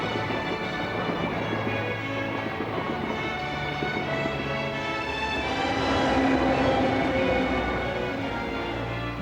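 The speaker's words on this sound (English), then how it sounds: "One year later, Brownger had a train steaming into Paarl." Steady loud rumble of a steam train running on rails near Paarl, South Africa, with continuous low mechanical churning, a faint rhythmic clatter and a rising surge in the latter half, with no talk over it.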